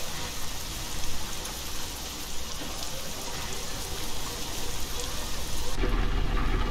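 Steady rain falling in the Euro Truck Simulator 2 game, a dense continuous hiss of drops at even loudness, with a low rumble entering near the end.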